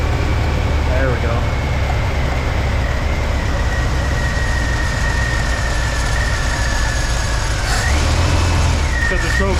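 1968 Oldsmobile Delmont 88 with a 455 big-block V8 idling cold with the choke fully open, a deep, loud, steady rumble close by throughout, with a faint whine and slight revs near the end.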